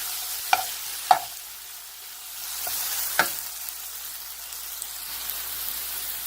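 Ridge gourd frying in a pan gives a steady soft sizzling hiss, broken by a few sharp spatula knocks and scrapes as it is stirred.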